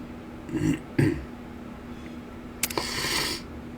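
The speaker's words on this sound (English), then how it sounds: "Once I stop sniffling." A person in a gaming session clears their throat twice in quick succession near the mic, followed a moment later by a brief sniffle-like burst of breath; no talking.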